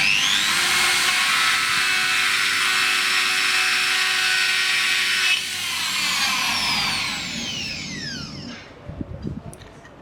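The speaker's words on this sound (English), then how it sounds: "Aluminium cut burrs are very coarse and are great for fast stock removal from aluminium" An aluminium-cut carbide burr on a power tool grinds aluminium with a loud, steady high whine. Partway through the load eases, then the tool spins down and a few light clatters follow.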